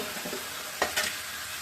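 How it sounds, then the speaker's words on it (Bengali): Meat frying in a pan gives a faint, short sizzle, with two quick scraping strokes of stirring near the end. "তো মাংসটাকে একটু নেড়ে ছেড়ে দিই"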